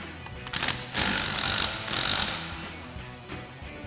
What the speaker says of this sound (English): take our 18mm socket on our impact. Go ahead and try to get this 18mm mounting nut off